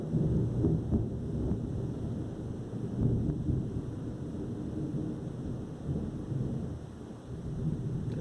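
A thunderstorm with heavy rain pours steadily while deep thunder rumbles and rolls throughout, the storm moving off into the distance on an evening sky.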